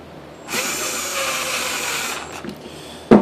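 A Dewalt DC825 impact driver, freshly reassembled, whirs steadily at high speed for about a second and a half, then winds down, followed by a couple of faint clicks and a sharp knock near the end.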